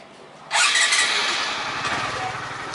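A Honda MSX motorcycle engine starts abruptly after a moment of low background hum, then settles into a loud, steady, close running note with a rough idle texture.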